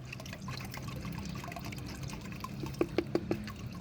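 Quiet trickles and drips of homemade leaf fertilizer liquid being strained, in the background, ending with a few distinct light drops or taps near the end.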